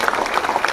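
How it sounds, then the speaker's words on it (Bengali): Audience in a cinema hall clapping, a steady patter of many hands over a brief moment with no voices. "সবাই মিলে একটা প্লিজ বলে হাততালি দিন।"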